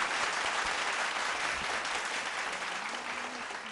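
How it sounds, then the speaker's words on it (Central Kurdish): A studio audience at a KurdSat television competition show applauds the groups, a dense steady roar of many hands clapping that tapers slightly toward the end. "یەک چەپڵە قایم بۆ گروپی ئێ، بۆ گروپی بی."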